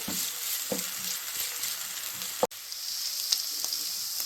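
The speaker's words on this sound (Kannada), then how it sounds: "ಇದು ಸ್ವಲ್ಪ ಹಸಿ ವಾಸನೆ ಎಲ್ಲ ಹೋಗೋವರೆಗೂ ಆಡ್ಕೊಳ್ಳೋಣ ಇದನ್ನು ಎಣ್ಣೆಯಲ್ಲಿ" Ginger garlic paste fries in hot oil for chilli chicken, giving a steady close sizzle with light stirring clicks and one sharp knock against the pan midway.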